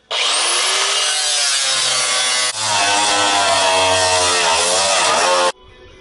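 A loud, harsh grinding screech of an angle grinder biting into sheet metal on a Kombi, running steadily for about five seconds with a brief dip midway, then cutting off abruptly.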